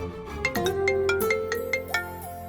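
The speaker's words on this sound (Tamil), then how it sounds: "அம்மா ஃபோன் பண்றாங்க." A phone ringtone plays for an incoming call, a bright melodic run of electronic notes at moderate volume with no talking over it.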